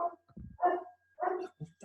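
A dog barks several times in quick, uneven succession, a handful of sharp, moderately loud woofs nearby with short pauses in between and no other sound around them.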